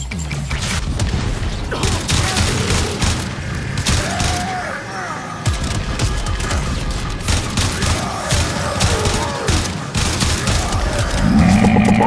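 Rapid automatic gunfire and explosive booms from the video game Warframe, dense and continuous across the whole stretch, with sharp bursts and crashes layered over loud game sound effects.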